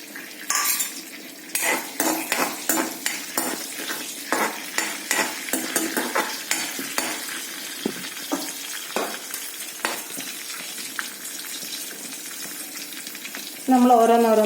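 Whole spices such as fennel and mace heating in a pan for a thick chicken curry, with repeated metal scrapes and clinks of stirring over a soft sizzle.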